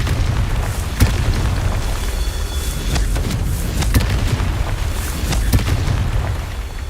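Confringo explosion spell from a Harry Potter video game: repeated deep booming blasts with sharp cracks at irregular intervals, loud and close over a constant low rumble of game ambience.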